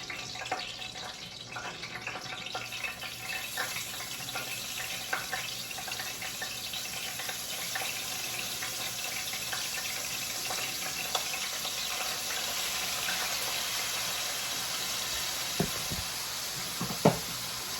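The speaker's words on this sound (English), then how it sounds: "you guys hear the grease popping in here" Shrimp fry in hot grease with a steady, dense hiss, broken by occasional sharp pops and crackles, close up and without any talking.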